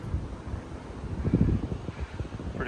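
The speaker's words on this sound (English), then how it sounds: "Pretty windy up here." Steady low wind buffeting the microphone at a mountain viewing platform in Linville Gorge Wilderness, a continuous rushing roar with gusty swells throughout.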